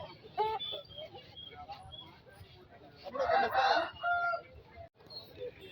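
A rooster at the Ongole market crows once, close and loud in the middle, with short clucks and market murmur around it.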